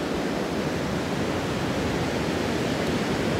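Ocean surf at Asilomar Beach rolls in a steady, loud, unbroken wash of broadband roar, close and constant with no voices.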